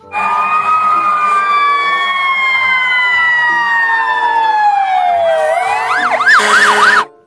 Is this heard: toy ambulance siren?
yes